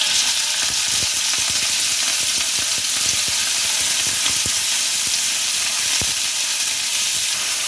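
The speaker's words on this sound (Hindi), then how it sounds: "अब चिकन को इसमें फ्राई कर लें।" Boneless chicken fries with garlic in a pan for a spicy chicken pasta, giving a loud, steady sizzle with crackling pops and the occasional stir throughout, no voices.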